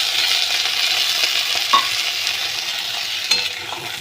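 Potatoes go into a hot frying pan for an egg curry (dim kosha) and sizzle with a steady hiss. A utensil scrapes and stirs with a few sharp clinks against the pan.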